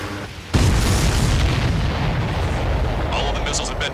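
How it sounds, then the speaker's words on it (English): Missiles exploding in the aerial combat game Ace Combat 7, a sudden heavy boom followed by a sustained rumbling roar with crackling bursts, loud and close, fading slightly toward the end. "All of the missiles have been destroyed."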